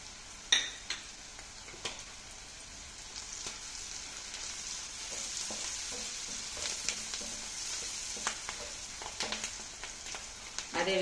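Spices with curry leaves and turmeric frying in hot oil in a pan: continuous soft sizzling, punctuated by occasional crackles and pops and stirring clicks, close and moderately quiet.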